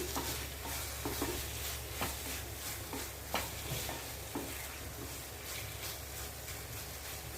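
Potatoes sautéing in oil in a pan for a potato and mushroom fry, a steady soft sizzle with scattered scraping stirs and light clinks, continuous and fairly quiet throughout.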